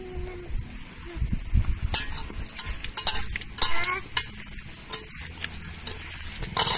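Gavran chicken coated in turmeric and salt is tossed and stirred in a pan, making irregular close scrapes, wet slaps and shuffling bursts over a rough sizzling bed.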